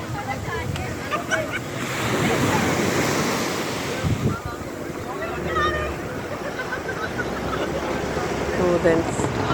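Ocean waves breaking on the shore, a steady rushing surf with wind noise against the microphone, loud and continuous, while a person talks over it.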